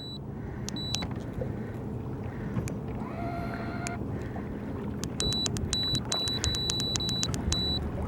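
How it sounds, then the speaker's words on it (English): An iPilot electric trolling motor with 80-pound thrust runs on a boat, giving a steady low hum under wind and water noise, with faint electronic beeps from onboard electronics near the end. "It's an 80-pound thrust trolling motor."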